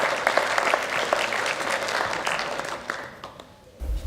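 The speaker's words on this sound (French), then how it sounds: "Merci de l'applaudir." An audience at an awards ceremony for apprentices claps loudly and steadily, with individual sharp claps standing out before the applause thins and fades near the end.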